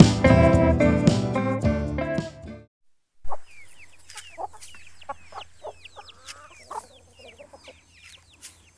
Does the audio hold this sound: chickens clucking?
yes